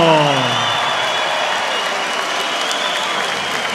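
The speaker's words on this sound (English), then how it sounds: "the WBC and lineal heavyweight champion of the world is applauding" Applause after a heavyweight boxing knockout at a professional debut, a dense, steady wash of clapping from a large arena crowd with some cheering and a voice briefly at the start.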